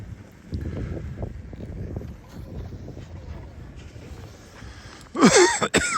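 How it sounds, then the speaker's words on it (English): Wind rushes over a microphone outdoors at a ski area in falling snow, then near the end a person coughs loudly a couple of times, close up. "Coughing on snowflakes."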